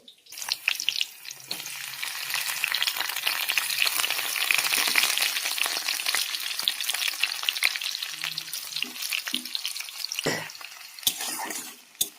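Chopped garlic, green chili and cumin sizzle loudly in hot oil on a low flame, a dense steady crackle and hiss with occasional stirring scrapes, fading slightly near the end.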